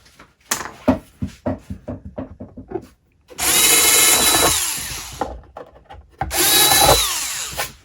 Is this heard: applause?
no